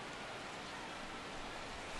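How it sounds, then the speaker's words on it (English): Steady rain falling on a baseball game in MLB The Show 16, Mets versus Royals, a constant even hiss with no breaks and no talk. "The rain, as we've mentioned, coming down fairly steadily here at game time."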